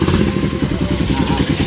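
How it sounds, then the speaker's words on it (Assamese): Motorbike engine running close by with a pulsing, throbbing idle, loud and steady through the short stretch. "এতিয়া আমাৰ ভাইটিয়ে আহিছে বাইকখন লৈ যাওঁ আৰু সেইটো আহি গ'ল।"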